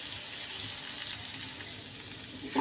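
Potato pieces seasoned with salt and turmeric fry in a pan, a steady close sizzle with light stirring scrapes and no talk.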